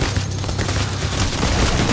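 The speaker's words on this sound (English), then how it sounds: "Who is shooting at me?" Rapid gunfire from the video game Payday The Heist fills a dense, continuous barrage of overlapping shots at steady loudness for the whole stretch, with no voices over it.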